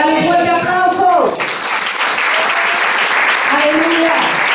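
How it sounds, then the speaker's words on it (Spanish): Church congregation breaks into loud applause after a sermon, with a voice trailing off at the start and sustained dense clapping continuing, joined by more talking and calls partway through. "Dale un fuerte aplauso."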